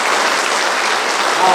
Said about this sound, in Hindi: देखिए तालियों की जो गड़गड़ाहट है वो अपने आप में कुछ कह रही है